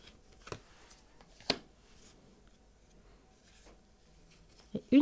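Tarot cards laid down one by one during a weekly card reading give a few soft, sharp slaps spaced a second or more apart, close and fairly quiet, with someone speaking between them.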